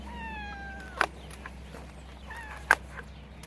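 A house cat gives a faint, drawn-out meow early on and a softer second meow later, under a low steady hum, with two brief sharp clicks between them and no speech.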